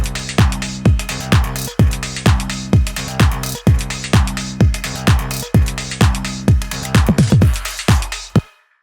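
A punchy electronic drum beat with steady kick and snare hits and crisp hi-hats, looping at a brisk tempo before cutting off.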